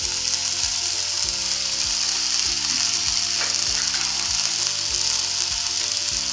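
Chicken shashlik sticks cooking over a flame give off a constant dense sizzle and crackle of frying, close and steady throughout, with a low droning tone running underneath.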